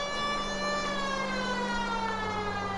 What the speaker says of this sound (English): I got too excited by turning on the siren.